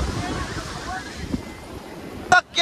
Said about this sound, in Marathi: अरे लाटा आल्या लाटा